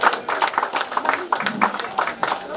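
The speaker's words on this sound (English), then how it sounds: "Let's give a round of applause." A small audience claps in a rapid, uneven patter of individual hand claps at a clinic launch event, fairly close and lasting a couple of seconds, with a voice briefly audible underneath.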